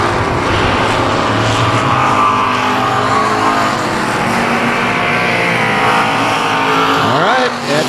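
Race cars at South Texas Speedway pass the start-finish line nearly side by side, engines roaring loud and continuous, one sweeping by with a quick pitch drop near the end, under an announcer's voice.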